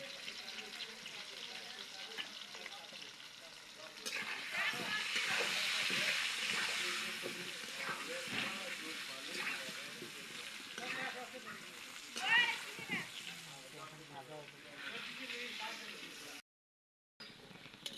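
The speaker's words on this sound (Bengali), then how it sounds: "আলু ভাজা হয়ে গেছে, দেখুন।" Potatoes frying in oil with turmeric and salt, a steady hissing sizzle that swells for a few seconds and then settles, with a voice talking over it at times.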